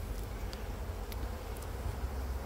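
Honeybees busy at a hive entrance in autumn, a dense, steady buzzing hum of many insects, close up with a few brief louder passes.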